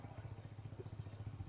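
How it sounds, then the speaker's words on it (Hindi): A motorbike rides along a quiet village road in Bihar, its engine a steady low rhythmic thrum heard up close and fairly soft, without speech. "अभी मैं चला रहा हूँ बाइक"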